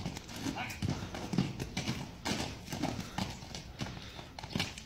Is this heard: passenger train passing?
no